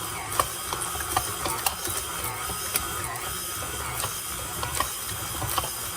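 A stand mixer kneads flatbread dough after oil is added, churning with a steady mechanical whir and a repeated ticking, clicking rattle from its gears, loud and close with no talk.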